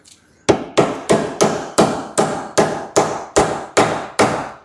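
Dead blow hammer striking the rear suspension hub of an MK7 Ford Fiesta, about eleven heavy metallic blows in a steady, evenly spaced rhythm, loud and close, each with a short ringing decay.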